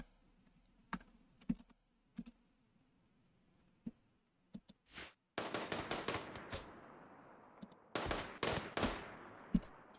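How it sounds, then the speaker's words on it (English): Gunfire in a video game rattles out in quick bursts at insect hives, sharp close cracks clustering into rapid volleys after a few scattered single shots, with soft clicks between. "Go in this room and shoot the hives"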